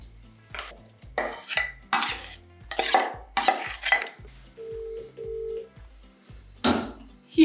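A phone call to someone's mother rings out as a short steady double tone, heard under loud, repeated clattering of dishes and pots in a home kitchen.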